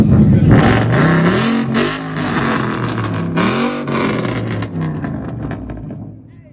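A loud Dodge Hellcat revving at a street takeover, repeated rising and falling engine blips with a deep supercharged roar, close and dominant, fading toward the end.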